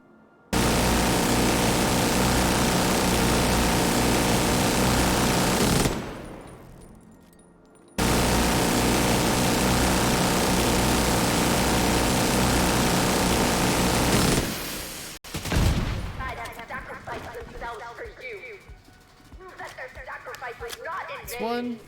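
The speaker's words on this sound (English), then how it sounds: "Probably use the minigun turret for this objective, just because our gun damage isn't good enough." A minigun turret firing in The Division 2, two long sustained roaring bursts of rapid fire with a short pause between, then scattered shots and game noise as someone talks.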